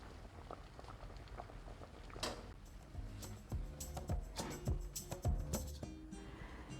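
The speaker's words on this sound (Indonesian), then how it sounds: "setelah direbus selama 1 jam" A pot of water at a rolling boil with sticky rice lepet cooking inside, a close, bubbling patter with irregular pops and clicks of lids or utensils that grows busier partway through.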